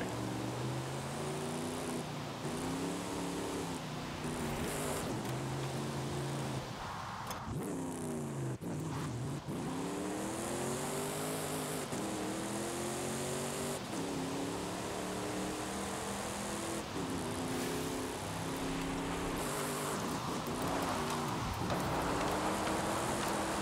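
Car drifting through corners in Forza Horizon 5, the F450 engine revving up and down in repeated sweeping rises and drops with hissing tire scrub, loud and continuous for the whole stretch.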